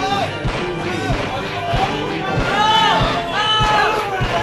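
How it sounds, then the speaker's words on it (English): A crowd screams and cheers at a Super Smash Bros. Melee tournament in New England, a loud, sustained roar with commentators talking over it. "we got the crowds screaming only in New England"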